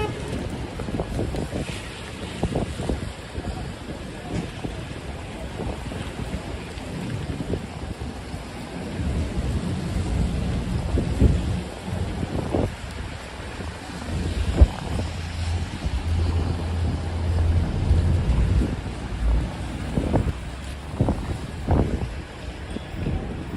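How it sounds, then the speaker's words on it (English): Strong wind gusts blow along 42nd Street in New York City, buffeting the microphone in loud rumbling surges over steady street noise, rising and falling across the stretch. "Probably like a 35-mile-an-hour wind gust that was."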